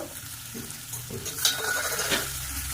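Potatoes and green peas being sautéed for a potato curry (aloo dum), a steady oily sizzle with scraping stirs and a few louder bursts, close and continuous, no talking.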